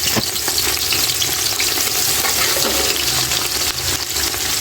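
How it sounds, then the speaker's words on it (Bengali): Onions added to mustard oil with garam masala frying loudly in a pot, a dense, continuous sizzle and crackle up close with some stirring scrapes, no speech. "গরম মশলা কিছুক্ষণ ভেজে পেঁয়াজ দিয়ে দিলাম"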